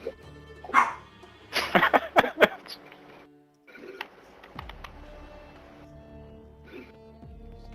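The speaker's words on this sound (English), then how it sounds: "Get that dog under control." A dog barks in a few sharp, loud bursts early on, indoors near a live-streaming setup, followed by quieter keyboard-like clicks and background noise.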